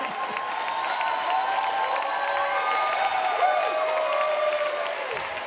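A large audience claps steadily for several seconds, a dense continuous patter of hands at a talk event, with some whooping and vocal cries mixed into the crowd noise.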